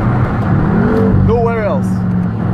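A BMW M5 drives along and its engine rises in a short, loud revving surge, heard from inside the car over a steady engine drone while people talk.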